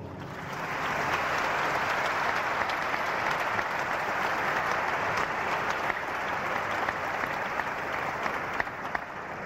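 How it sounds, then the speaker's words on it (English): Sustained applause from a large audience at a religious debate, a dense steady wash of clapping that continues for several seconds without pause, no talking. "I think they need your applause"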